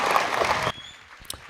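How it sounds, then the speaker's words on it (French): Audience applause at a Women's Day special broadcast, a dense burst of clapping for about three quarters of a second that cuts off abruptly into quiet room noise. "Merci de l'applaudir très fort"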